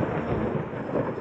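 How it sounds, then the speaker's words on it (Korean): Thunder rumbles continuously with steady rain in the horror video game Layers of Fear, a dense, loud low roar filling the whole moment without any talking. "비 오는데 천둥 치는 거 싫음."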